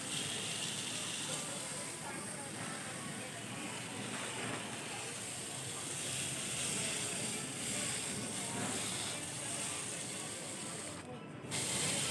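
A sustained, close spraying hiss of fungicide goes on over garden dahlia plants with slight surges and dips, with a brief break near the end.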